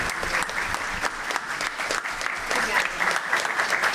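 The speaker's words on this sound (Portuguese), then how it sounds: "eu peço mais uma vez uma salva de palmas calorosa para essa servidora pública" Warm applause for a retiring public servant at a Brazilian budget committee session, a steady round of many hands clapping that keeps up throughout, with no pause or change.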